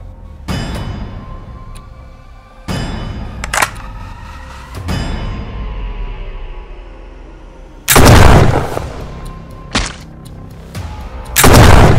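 Gunshots fired at an AION Magazine Battery 2.0 lithium iron phosphate battery pack: several loud, sharp bangs spaced a second or two apart, each with a ringing decay, and the last ones especially heavy and close.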